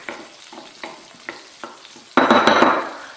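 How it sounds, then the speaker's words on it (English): Rice for Spanish rice toasts in a pan, soft regular spoon scrapes stirring it over a light sizzle, then a sudden loud burst of crackling sizzle near the end. "So I'm going to go ahead and stir this in"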